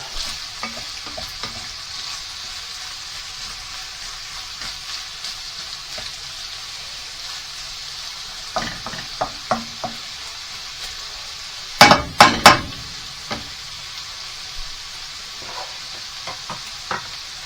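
Rabbit and chorizo browning in a frying pan, a soft continuous sizzle with scattered clinks and scrapes of stirring, including a louder burst of clatter partway through, no speech.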